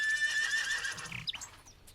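A horse whinnies in a long, high, wavering neigh, followed by a few snorting and stamping sounds, close and loud with no talk over it.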